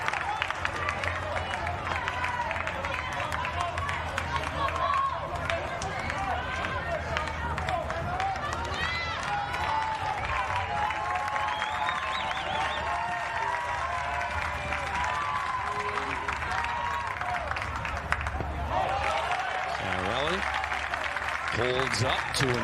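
Crowd at a state championship high school baseball game in Wisconsin, steady applause and cheering throughout, with a commentator talking over the noise.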